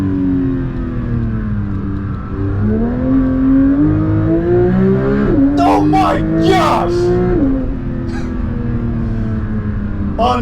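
A Porsche 992 GT3 engine revs hard and close, its raspy tone rising in pitch with throttle, then easing back, with a person exclaiming over the noise.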